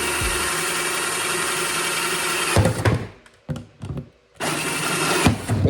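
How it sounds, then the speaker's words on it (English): A drill runs loud and steady, close up, boring through starter holes in a DIY water purifier build, then stutters and stops in short bursts before spinning up again. "I got my starter holes, so that we're gonna just go ahead and drill these through"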